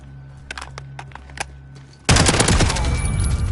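Striker 45 submachine gun firing in a video game during recoil testing: sudden, loud sustained burst of automatic fire after a quieter stretch of faint clicks and game noise.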